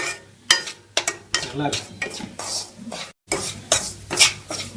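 Cashews and raisins fry in ghee while being stirred in a pan, with scraping spoon strokes, clinks against the metal and a steady sizzle; a voice speaks briefly over the cooking.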